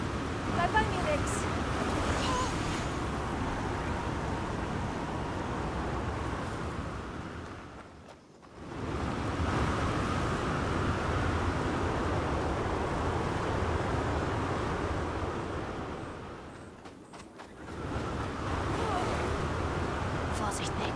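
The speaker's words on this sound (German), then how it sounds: "Schön windig." Steady broadband wind rush in the Star Wars Outlaws video game, blowing continuously at a loud, even level with two brief dips where it nearly cuts out.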